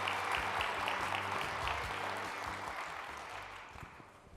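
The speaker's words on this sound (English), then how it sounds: "Give these guys a round of applause." Audience applause breaks out at a retail technology presentation, a steady wash of clapping from a crowd that holds strong and then slowly tapers off toward the end.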